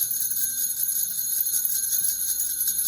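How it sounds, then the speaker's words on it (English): A metal jingle bell shaker, a music-class percussion instrument, is shaken continuously, giving a bright, steady shimmer of small bells up close with no talking. "If you said shaking, you're right. This is a shaker."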